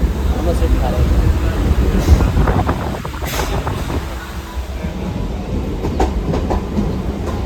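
A MEMU train rumbles and clatters nearby as it pulls away from Pen station, steady wheel noise with faint clicks and wind buffeting the microphone.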